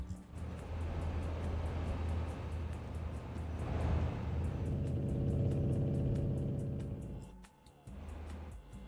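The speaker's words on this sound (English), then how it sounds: "Oh, it's this muscle car." A muscle car engine rumbles steadily and fairly loud, a deep low idle that swells slightly in the middle before dipping briefly near the end.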